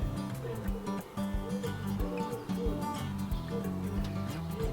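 Birds chirp and sing faintly in a garden tree covered in blossom, their scattered short calls rising over a low, busy outdoor background without talk.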